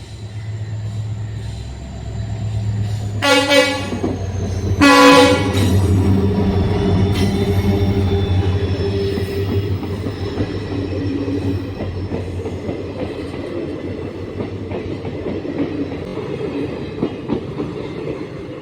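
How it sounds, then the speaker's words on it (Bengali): A train pulls into Kalchini station in the Dooars region, its horn sounding twice in loud blasts. A steady rumble and clickety-clack of wheels follow, fading slowly as the carriages roll past close by. "ট্রেন চলে এসছে।"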